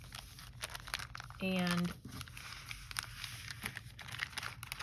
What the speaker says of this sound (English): All you're going to do to start with is fold this into thirds